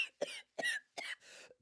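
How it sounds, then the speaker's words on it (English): A dry, hacking cough from a person with allergies, recorded close on a podcast: four harsh bursts in a steady rhythm over about a second and a half, with no talking. "I have this dry hacking cough"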